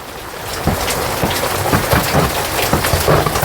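Rain pattering steadily onto an umbrella outdoors in green countryside during a downpour, with irregular drops tapping loudly and close over a constant wash of falling rain.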